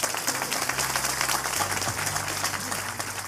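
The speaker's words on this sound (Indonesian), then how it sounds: "Tepuk tangan untuk Mbak." Audience applause at a talk-and-poetry gathering, dense steady clapping from a crowd that holds for the full few seconds with a low hum beneath.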